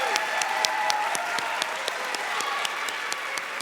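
An audience at a literary awards ceremony applauds the winners, a steady, full round of clapping from a sizable crowd with sharp individual claps standing out.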